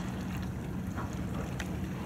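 A boat, a Vietnamese ghe on a river, runs fast with a steady broadband engine and water roar, close and continuous, mixed with wind buffeting.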